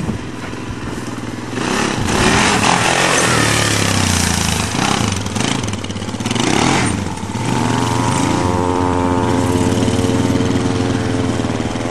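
A Can-Am 800 quad ATV drives on a farm with only three wheels turning, its engine a loud, close, continuous roar that rises and falls, then settles into a rougher idle-like rumble.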